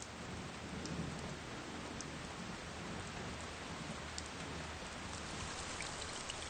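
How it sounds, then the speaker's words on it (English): Steady summer rain in the Zhanjiangyuan highlands hisses evenly and continuously, a dense wash of droplets with no voices or breaks. "rain can come at any time."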